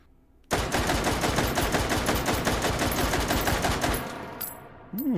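An SKS carbine in the VR shooting game H3VR fires a rapid string of about twenty loud, evenly spaced shots up close, then falls quiet with small mechanical clicks.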